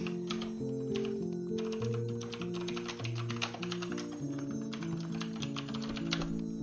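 Steady computer keyboard typing, a long run of close, fast key clicks layered over background music, with no one speaking.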